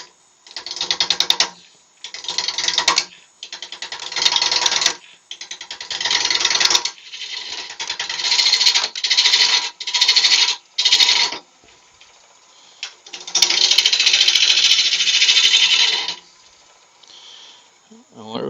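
Wood turned between centers on a lathe at about 600 RPM, a tool cutting it in repeated bursts of scraping, rasping noise with short pauses, then a longer steady cut near the end, close and fairly loud.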